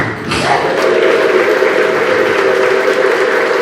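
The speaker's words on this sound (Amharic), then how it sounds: "እልልታ ያቅርብ ለአምላኩ።" A church congregation ululates in praise during a service, a loud, sustained, high trilling chorus from many voices mixed with crackling clapping that holds steady throughout.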